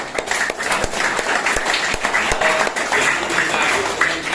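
Audience applause fills a gathering at a gurukul sanskar camp, sustained clapping from a crowd held steady throughout with a few sharper individual claps standing out.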